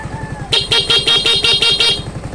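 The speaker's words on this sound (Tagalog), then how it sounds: "Stock horn. Ito yung switch ng ano, busina." A Yamaha Fazzio 125 scooter's stock horn beeps in a quick series of about seven short, loud, close honks over the steady idle of the engine.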